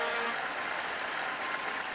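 A video game arena crowd in Colosseum Road to Freedom cheers and claps for the victor, a dense steady wash of applause and crowd noise with no talk over it.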